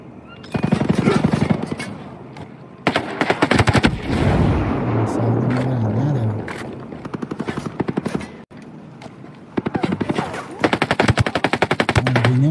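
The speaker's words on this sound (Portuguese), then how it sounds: "Só atirando na direção da mata" Rapid bursts of automatic gunfire from a shooting video game, loud and repeated in long volleys with brief pauses, joined by heavier blasts and a droning engine-like tone underneath.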